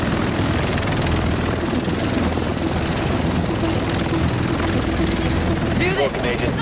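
A helicopter arrives in the game Tom Clancy's The Division, its steady loud rotor and engine roar filling the scene throughout, with voices speaking over it.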